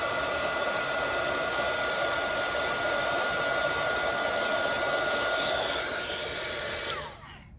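A handheld heat tool blows hot air over Distress embossing glaze in a steady loud whooshing drone, close and alone, before the blower switches off and spins down at the end.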